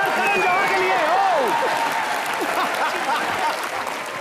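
A studio audience at a televised comedy show applauds: dense, loud clapping and cheering, with voices rising over the crowd throughout.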